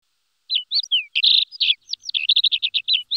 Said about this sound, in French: cet oiseau est l'ascenteur alpin qui vient parfois lorgner nos casse-croûtes en haute montagne